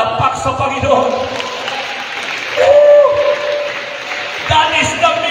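A church congregation breaks into applause for the Lord during a sermon, a burst of crowd clapping that swells around the middle and mixes with a preacher's voice and reverberant hall noise.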